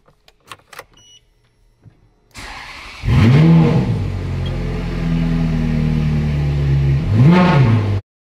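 Old rental Ferrari under restoration being restarted: a brief starter whir, then the engine catches and idles roughly before two sharp revving blips, close and loud, with no talking.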